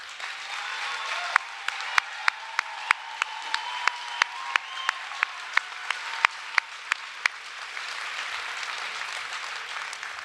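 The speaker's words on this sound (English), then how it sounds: "please join me in a round of applause thanking them for their partnership" An event audience applauds senior leaders who have stood up, a sustained wash of many hands clapping with a few louder, closer claps standing out, then fading toward the end.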